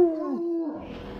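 A hound dog howls in a short, drawn-out wavering cry, clear and fairly loud, with no talk over it.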